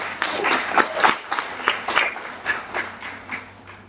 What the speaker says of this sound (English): So I just like give them a great applause for their participation.